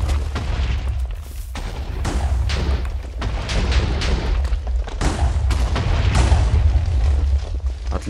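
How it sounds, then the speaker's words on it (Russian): Explosions in Minecraft set off while clearing a mine room with minecarts, heavy booming blasts that go off repeatedly and overlap into a continuous loud rumble. "Вот это тоже взорвать."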